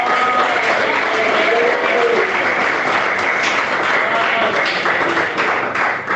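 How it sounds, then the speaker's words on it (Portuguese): Congregation in a church service clapping hands together, a dense, steady wash of applause filling the room for several seconds without a break. "Bate palmas."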